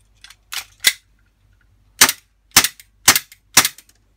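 An APS Sharp B, a Glock-style gas airsoft pistol capable of full auto, fires about seven sharp, close pops in irregular groups, with short silent gaps between shots.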